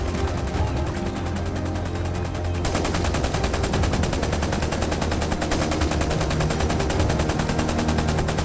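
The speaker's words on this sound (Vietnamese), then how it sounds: "tiếng súng của bọn chúng nghe ngày càng gần hơn rồi đó" Dense, continuous gunfire from enemy soldiers rattles nonstop in an animated cartoon, loud rapid bursts like machine guns layered over a steady roar, with no voices.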